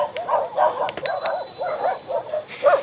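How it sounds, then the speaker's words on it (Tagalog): Several dogs bark in quick, overlapping bursts at a cyclist on a road climb, with yips and sharp woofs close by and a brief bright ping partway through. "Ang daming aso."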